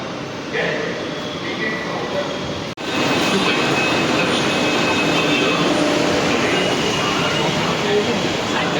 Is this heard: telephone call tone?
no